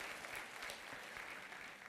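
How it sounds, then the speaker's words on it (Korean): A church congregation at a Sunday worship service claps in continuous, even applause of encouragement, dense and steady but heard faintly at a distance. "지금 진행 중인 분들에게 격려의 박수 부탁드립니다"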